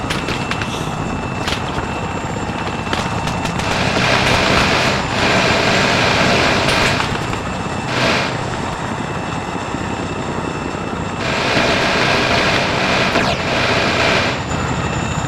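A helicopter in the Arma 3 military video game makes a loud, continuous rotor and engine roar that swells and eases throughout, with no voices heard.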